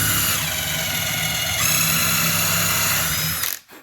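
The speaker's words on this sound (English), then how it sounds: "I've got my drill. Here we go." A power drill boring a hole into a wooden cabinet face frame, one continuous steady whine under load for about three and a half seconds before cutting off abruptly.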